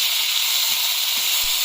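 Chopped tomatoes with ginger, garlic and onion frying in a pan, giving a steady, close, even hiss of sizzling oil that runs unbroken throughout, with no talking.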